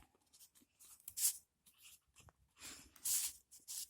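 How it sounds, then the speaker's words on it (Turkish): A thick pen scratches across paper in short, uneven strokes, quiet and close, with pauses between bursts and no talking. "Çok kötü yazabiliyorum bazen. Çünkü bu kalem bayağı kalınçlı."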